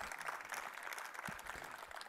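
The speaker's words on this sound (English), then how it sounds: "I will accept that applause in the name of the plant." An audience applauds a lecture speaker, the clapping soft and distant, a steady wash of many hands for about two seconds.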